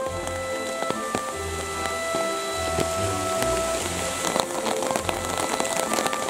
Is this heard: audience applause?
no